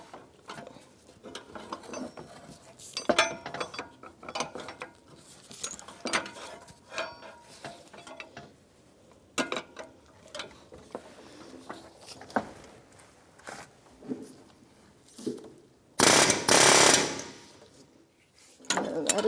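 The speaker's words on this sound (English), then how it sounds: "I'm going to hook my air gun, chisel. I'm going to give it a couple blasts, that's all." Pneumatic air chisel driving a fan clutch tool on a 1992-1996 Ford F-150 radiator fan, loud rapid hammering bursts in a few short blasts, the strongest near the end, with workshop rattles between.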